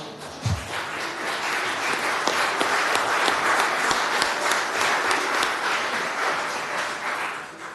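At a city commission meeting, sustained applause from the room gives a dense, even roar of many hands clapping for several seconds, then slowly tapers off toward the end.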